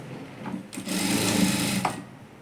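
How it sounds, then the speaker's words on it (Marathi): Sewing machine stitching the waist side of a princess-cut blouse with cups, a steady whirring run of about a second that starts and stops cleanly, close and moderately loud. "आणि ही कमरेकडची बाजू शिवून घ्यायची"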